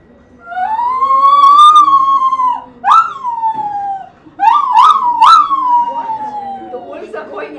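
A human voice imitates a wailing, ambulance-like siren in a series of loud, rising and falling howls close by, with short breaks between them during an improv scene.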